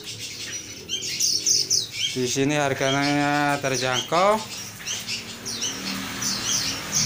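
Lively chirps, tweets and cooing from many caged birds at a bird kiosk in a fruit market, close and continuous, with someone speaking over the birdsong partway through.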